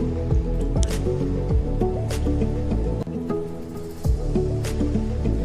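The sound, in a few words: water added to rice flour dough for modak being kneaded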